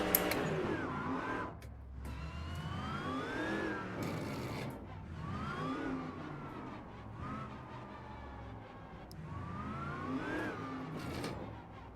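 Mercedes-AMG GT3 race car lapping in Rennsport, its engine revving up and down through gear changes in repeated rising sweeps, steady and moderately loud with no talking.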